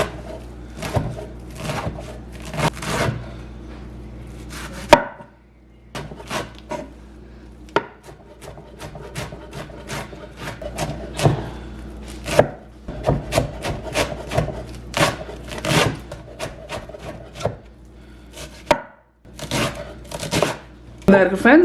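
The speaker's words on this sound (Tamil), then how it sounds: "முடிஞ்ச அளவுக்கு நான் இதை நல்ல மெல்லிஸாக வட்டி இருக்கிறேன்" Gotu kola leaves are finely sliced with a knife on a board for a spicy sambal, giving steady, close chopping taps in uneven bursts with short pauses, fairly loud throughout.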